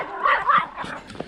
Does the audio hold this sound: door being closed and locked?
no